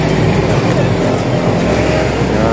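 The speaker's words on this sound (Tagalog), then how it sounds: "Ayun na sitwasyon dito, traffic na." Heavy road traffic crossing Sumilang Bridge, a loud, continuous rumble of engines and passing vehicles with deep low drone throughout, close by, and voices faintly mixed in beneath the noise.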